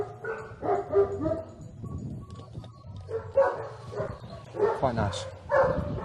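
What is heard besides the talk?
cadaver dogs barking at a dog school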